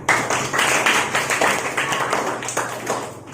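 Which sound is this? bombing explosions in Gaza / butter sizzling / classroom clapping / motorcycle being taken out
classroom clapping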